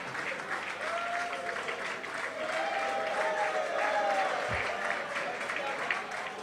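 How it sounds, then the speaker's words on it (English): Sustained audience clapping fills a hall at a national convention in Abuja, dense and steady throughout, with a faint voice and a low thump briefly audible beneath the applause. "Please, let's keep clapping."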